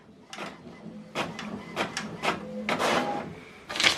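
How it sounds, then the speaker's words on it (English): An HP Envy Inspire printer printing a single black-and-white document page, with a run of mechanical whirring, clicking and paper-feed bursts of varying loudness, heard close and with no talk. "We selected to print this document black single page instead of double-sided."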